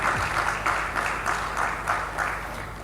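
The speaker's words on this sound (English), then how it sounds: "let's give him a very warm round of applause for this" A live audience at a panel event on India's water crisis gives warm applause, the steady clapping heard at a moderate distance, rising and falling in soft rhythmic swells.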